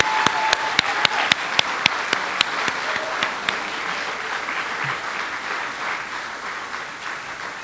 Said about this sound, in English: please give one more round of applause to the members of the National Technical Honor Society